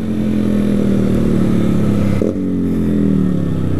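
A 2022 Honda CG 160 Fan motorcycle engine revs hard and close, holding high against the rev limiter before the cut drops it into a brief falling note, with no talking.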